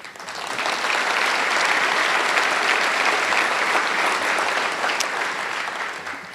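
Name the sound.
applause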